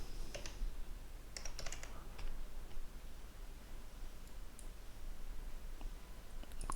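Quick bursts of typing on a computer keyboard, a few clustered key clicks early on and scattered taps later, close but faint over a quiet background hum.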